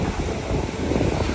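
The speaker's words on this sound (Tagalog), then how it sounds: "Mahangin. Medyo mahangin." Strong wind buffets the microphone in a steady, loud roar along a coastal path in Yomitan, Okinawa, with no speech and a faint wash that may be surf beneath the gusts.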